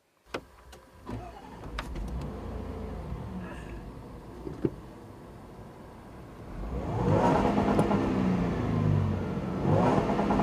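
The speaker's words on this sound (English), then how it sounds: "I like the fact that the supercharger spools up in such a gradual way" A supercharged engine in a 2014 Range Rover Sport builds gradually under acceleration, a rising, smooth roar that swells over the second half after a quieter idle and a few clicks at the start.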